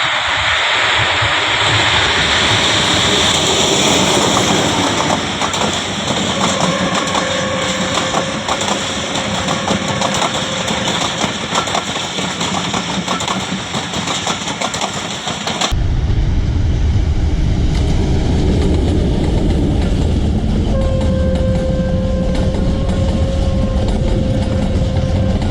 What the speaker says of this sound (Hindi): 12 डाउन अज़ारा एक्सप्रेस PHA के साथ नूर जंक्शन पर, और बड़ी तेज़ी से आ रही है जी